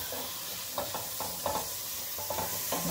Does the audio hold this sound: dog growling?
no